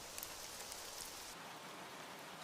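Steady rain falls on a surface as a dense, even hiss, quiet and continuous throughout with no voices present.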